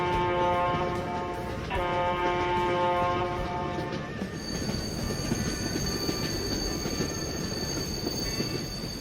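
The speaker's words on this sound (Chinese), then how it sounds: "火车" A cartoon train runs along rails: a loud, steady rolling rumble with a sustained, high, tonal squeal from the wheels, which shifts in pitch partway through, with no voices.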